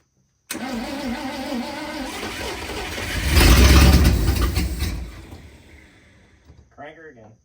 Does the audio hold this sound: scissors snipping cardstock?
no